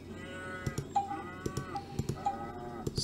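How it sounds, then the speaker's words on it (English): Cattle mooing in a McDonald's Simulator video game: several drawn-out synthetic moos overlap, punctuated by sharp clicking ticks, with no speech. "We're getting cows."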